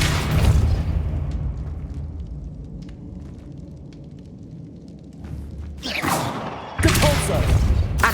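A Depulso force-push spell cast in Hogwarts Legacy lands as a deep booming thump with a whooshing burst, repeated a few times with louder blasts near the end over a low rumbling game background.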